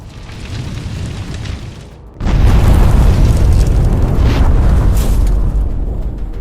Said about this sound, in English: The ensuing fire reached the charges and produced a massive explosion.